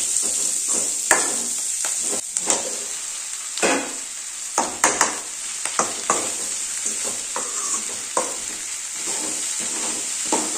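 Okra and onion fry in a pan with a steady bright sizzle, broken by repeated scraping stir strokes and clinks of a spatula, close and clear with no talk.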